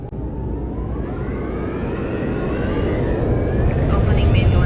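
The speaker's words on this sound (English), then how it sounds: "Engines are up and burning." Rocket engines burning at launch in a surround-sound demo at a smartphone launch event, a steady loud low roar that swells slightly, continuous throughout.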